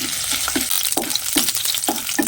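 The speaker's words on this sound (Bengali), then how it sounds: "আদা কিছু দিয়ে ভেজে নেবো" Ginger frying in hot oil, a close, constant crackling sizzle broken by rhythmic scraping stir strokes about every half second.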